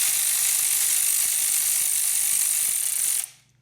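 A pneumatic air ratchet runs continuously, loud and close, tightening engine bolts on a dirt bike during an oil leak repair, then cuts off abruptly near the end.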